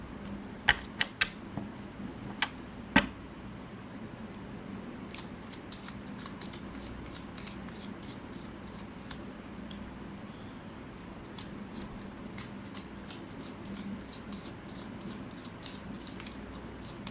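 Tarot cards are shuffled by hand, quiet crisp riffling clicks and flutters coming in scattered bursts, some brisk runs of rapid snaps, over a soft background hiss with no talking.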